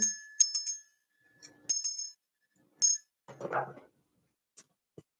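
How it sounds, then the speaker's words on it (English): A small bell dings several times in short bright strikes with pauses between them, near and fairly clear, followed by a brief low murmur of a voice. "Ding that bell. Ding, ding, ding."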